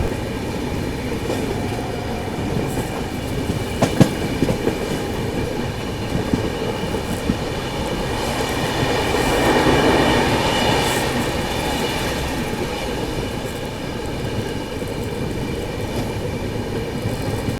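The Bundelkhand Express passenger train runs along the tracks in India, heard from inside as a loud continuous rumble with rhythmic rail clatter and occasional clanks, steady from start to finish with no talking.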